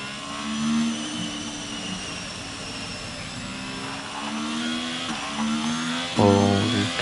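Race car engine in the F1 22 video game revving steadily at a sustained mid pitch, with a sharper rise near the end; no talking.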